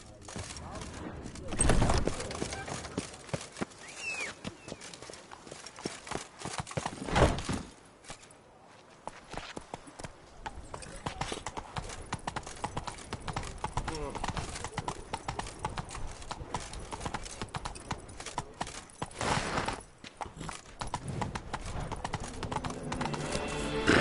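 Geralt's horse Roach in The Witcher 3: Blood & Wine moving at speed, a rapid rhythmic clatter of hooves carrying on almost without pause, with a short lull midway and occasional bursts of other game noise.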